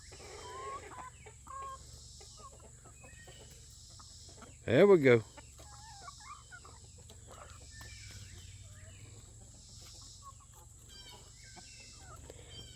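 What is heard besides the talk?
chickens clucking while eating tomato hornworms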